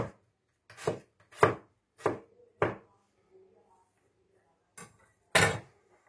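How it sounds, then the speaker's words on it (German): A knife chopping onion finely on a board: six or seven sharp, distinct knocks in an irregular rhythm with short pauses between them, close and clear against a quiet background. "Also so kleine Zwiebel schneiden, also so ganz kleine"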